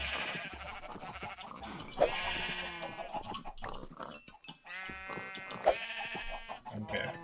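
Sheep bleat twice in a Minecraft game, clear nasal calls over ongoing talk and game sounds.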